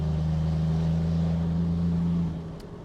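Steady low diesel drone of a Mercedes 300D W124 car cruising on the road, a loud continuous engine and road rumble that drops away abruptly near the end.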